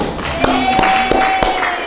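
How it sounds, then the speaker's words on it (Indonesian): A few sharp hand claps ring out, spaced apart, over a steady background hum, in a classroom. "Tepuk tangan."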